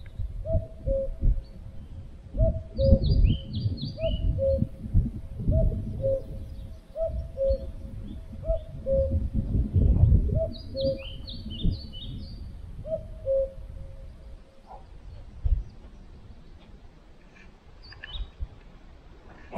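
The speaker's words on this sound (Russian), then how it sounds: "Самолет летит где-то и кукушка." Cuckoo calling repeatedly in a forest by a lake, a steady two-note rhythm at moderate distance over low rumbling background noise, with faint other birds chirping.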